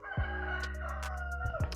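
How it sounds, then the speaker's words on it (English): A rooster crows in the middle of the night at an animal sanctuary, a loud, close call drawn out across the whole stretch with a steady low hum beneath it. "I really hate this chicken. It's like 3:30. Why are you crowing now?"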